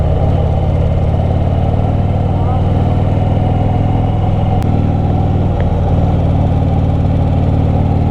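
A heavy 1800cc Harley-Davidson Fat Bob motorcycle engine rumbles steadily while riding toward the Himalayas, loud and close, with someone talking over the drone.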